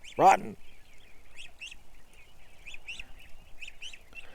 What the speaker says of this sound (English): Oh, we got a goose coming up.